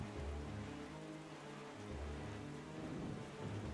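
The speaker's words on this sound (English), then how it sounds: "So we sail boldly into the storm." Steady heavy rain with deep rolling thunder in The Legend of Zelda: The Wind Waker's storm, a continuous dense roar with low rumbles swelling at intervals.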